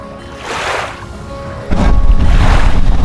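A yacht pulls away on the Pánuco river, a steady engine and water rush that swells loudly partway through as it gets underway, close and with no talk.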